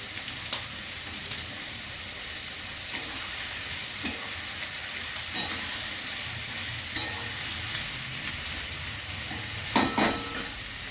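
Grated ginger and garlic frying in a pan for a jackfruit curry, a steady close sizzle with soft scraping stirs at irregular intervals, no voices.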